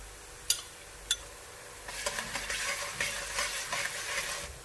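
Onions with ginger-garlic paste sizzle and fry in a pan, with a couple of sharp utensil taps at first and then steady crackling as it is stirred.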